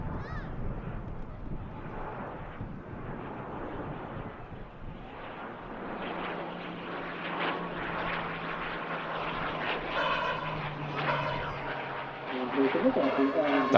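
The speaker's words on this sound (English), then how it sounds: "Down she goes, coming in from Dublin, the Aer Lingus ATR 72" An Aer Lingus ATR 72 turboprop lands at Manchester Airport after a flight from Dublin. A steady, broad engine roar carries a low propeller drone that grows stronger partway through, with wind buffeting the microphone.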